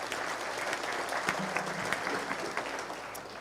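Audience applause for guests of honor at a city's State of the City address, an even, moderate round of clapping from a gathered crowd, sustained without pause and fairly distant.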